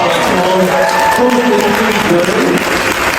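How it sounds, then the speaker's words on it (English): An audience claps at a Mindvalley talk in a loud, continuous wash of applause. Voices and background sound mix in over the clapping. "Round of applause."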